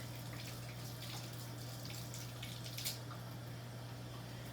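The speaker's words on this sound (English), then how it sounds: "So I'm washing my hands." Tap water runs steadily into a sink during handwashing, a constant broadband splashing stream lasting throughout with a steady hum underneath, no voices.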